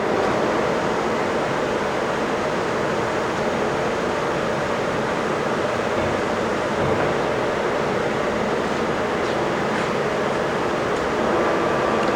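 A Poreba heavy duty lathe with a 32-inch by 200-inch bed, 42.5-inch swing and 8 to 800 RPM spindle runs in a steady, unbroken mechanical drone with a low hum, holding even throughout, with no talking.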